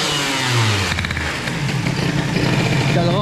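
A Bidalot RF 50 WR 50cc motorcycle engine revs loudly and close by, its buzzing pitch rising and falling through repeated throttle blips, with someone speaking French over it.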